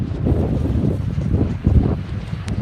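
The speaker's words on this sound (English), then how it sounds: "now that the wind is stronger" Steady wind rushing across the microphone during a youth Sabot dinghy sailing race, a continuous low buffeting roar with gusty swells and no talk.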